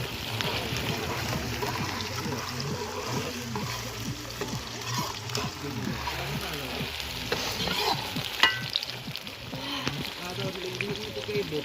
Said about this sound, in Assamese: পিঁয়াজটো ৰঙচুৱা কৰি ভাজি আছোঁ